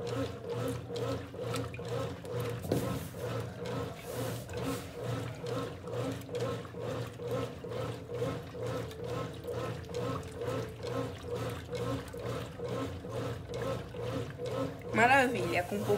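A 1993 Brastemp Mondial rotary washing machine runs an everyday wash with little water and soap, churning and sloshing in a steady, close rhythmic pattern, with a brief louder splash near the end.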